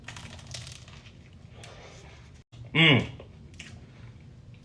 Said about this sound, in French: Avec la pâte feuilletée et tout, ça va être bien croquant.